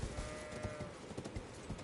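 Horse hooves clip-clopping in a video game, a fast, even rhythm of soft thuds at moderate distance, continuing steadily throughout.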